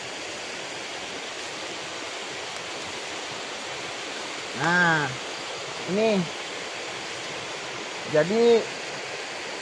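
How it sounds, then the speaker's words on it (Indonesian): A river flows steadily as a constant broad rushing wash. Someone talks briefly over it a few times. "suara air, aliran sungai ya kan."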